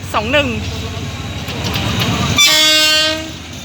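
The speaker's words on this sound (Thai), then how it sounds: "ขบวนที่208 นะครับ ต้นทางจากนครสวรรค์ไปทางกรุงเทพ" Thai ordinary train 208 from Nakhon Sawan pulls in, its rumble and rolling noise building under a nearby voice, then a loud, sustained multi-tone horn sounds close by.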